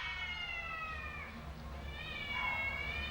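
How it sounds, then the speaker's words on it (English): A domestic cat meows in a drawn-out, wavering way twice, close by, in a cluttered space where a Ford Transit MK7 van is being stripped for a camper conversion, against a steady low rumble. "Bloody cats, man."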